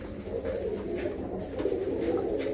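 Pigeons coo steadily in a coop in Tangra village near Amritsar, a dense overlapping murmur of low throaty calls running throughout with no pauses, close and moderately loud.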